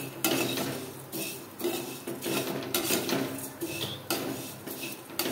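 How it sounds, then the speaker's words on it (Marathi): Utensil scraping and clinking as roasted vermicelli is stirred in a hot kadhai with the gas turned off, a steady rhythmic scrape-and-rattle repeating roughly every second, close and clear with no talking. "कढई गरम आहे, त्यातच थोडा वेळ फिरवूया।"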